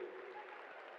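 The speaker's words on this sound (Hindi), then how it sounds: "एक बारी जोरदार तालियां प्लीज" Audience applause at a live telecast event in Rishikesh, a soft, distant, continuous patter of clapping lasting about a second with no speech over it.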